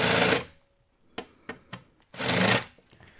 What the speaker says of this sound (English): So I'm just going to create a little bit of a countersink, not going too far.